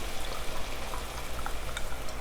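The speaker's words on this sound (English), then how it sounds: "Ooh, sizzle." Steady sizzling and crackling as white wine hits a hot pan, a continuous frying hiss with small pops scattered through it.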